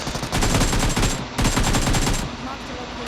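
Rapid automatic gunfire from a battle royale shooter, loud and dense bursts filling nearly the whole stretch with only a brief pause, heard close up.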